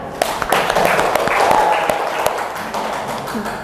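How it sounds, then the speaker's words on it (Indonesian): Classroom group claps for a student team after its presentation, a busy patter of hands with a few sharper close claps standing out, and a voice briefly heard underneath. "Tepuk tangan untuk kelompok 4."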